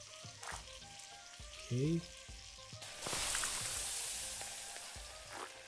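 Food sizzles and fries during a cooking scene in the video game Venba, a broad hiss that swells loudly midway and carries on steadily, with brief game chimes and a short spoken word over it.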